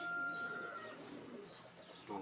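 Pigeons in a loft box give soft, low coos, faint and somewhat distant, alongside a few brief higher chirps and a light background hum.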